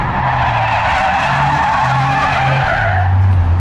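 Toyota GR Yaris tires squealing loudly and continuously through a skid on a local skid pan during shakedown testing, with engine drone underneath and no voices.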